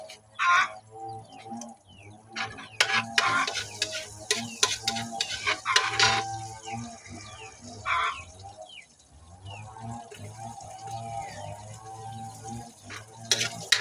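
Fish and spices are sautéed in a pan, giving bursts of sizzling and scraping stirring that rise and fall, with birds and farm animals calling faintly in the background.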